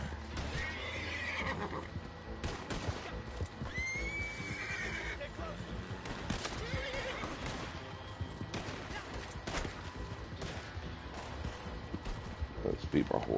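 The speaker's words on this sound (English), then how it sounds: "Let's feed my horse real quick." A horse in a video game whinnies and its hooves clip-clop, with faint gunfire in the game and a voice talking over the game sounds throughout.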